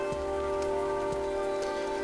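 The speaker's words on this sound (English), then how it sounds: "Hopefully this rain doesn't kill my bitrate." Steady rain hisses in the video game Dyscourse, a soft, even wash with a few faint drop taps over a constant low tonal hum.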